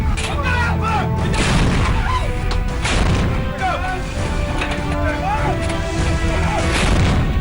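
A howitzer artillery gun fires shells in a series of heavy booms and cracks, with a voice talking over the repeated blasts.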